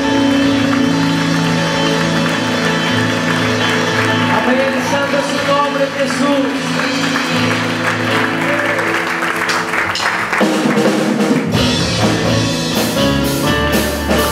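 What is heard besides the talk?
congregation applauding in church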